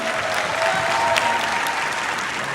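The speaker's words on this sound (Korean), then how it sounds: "다싸의 대표 최아름님을 큰 박수로 맞이해 주시기 바랍니다." An audience at a pitch-style speaking event gives warm, continuous applause to welcome the next speaker, a dense and steady wash of many hands clapping with no pauses.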